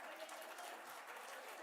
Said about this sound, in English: all of them are applauding your presentation